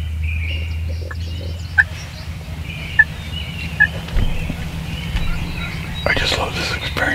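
A wild turkey tom gobbles during a spring hunt, heard from a blind as several short, sharp calls at a distance over constant low background rumble, with a soft voice whispering at the end.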